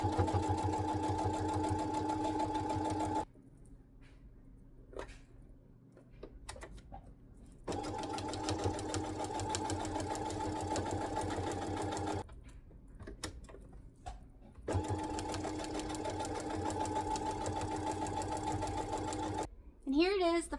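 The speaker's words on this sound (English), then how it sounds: "sew another 1/4 inch all the way around here" Sewing machine stitching around a fabric pot holder in three long runs of steady, rapid mechanical whirring, broken by quiet pauses with faint handling sounds and a brief voice at the end.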